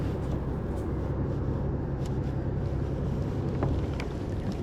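A fishing boat trolling at about 3 km/h on the Holands Diep, heard as a steady, close engine drone mixed with continuous wind buffeting on the microphone, without talk.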